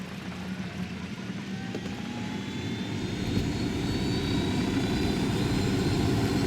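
A fixed-wing aircraft engine in the video game Ghost Recon Wildlands, a steady droning hum with faint rising whine that builds slightly louder partway through and holds, alone with no talk.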